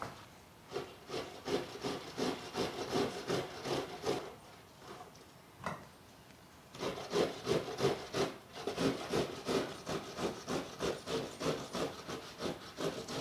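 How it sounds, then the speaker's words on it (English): Almost-cooked potatoes grated by hand, a close, rhythmic series of rasping strokes that pauses briefly midway, then resumes at a steady, quicker pace. "Almost cooked potato we will grate and we will add to our raw potato."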